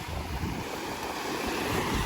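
Sea waves wash steadily onto a beach in Turkey, a continuous close rushing surf mixed with wind buffeting the microphone, with no voices.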